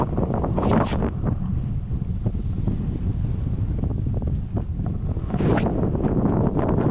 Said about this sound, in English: it's quite a bit blowier than forecast, and it's blowing straight into the anchorage here